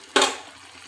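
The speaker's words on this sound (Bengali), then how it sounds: "সামান্য একটু জল দেব ছোলাটা আলুটা সিদ্ধ হওয়ার জন্য।" A little water poured into a pan of chickpeas and potatoes, a sudden short splash and hiss that fades quickly into quiet.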